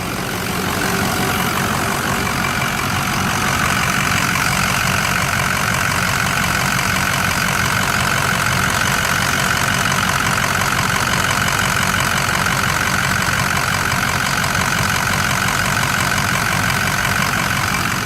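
A 2007 Ford F-250 Lariat pickup's 6.0L Powerstroke diesel V8, fully warmed up, idles steadily and loudly close by, a continuous even clatter and rumble with no talking over it.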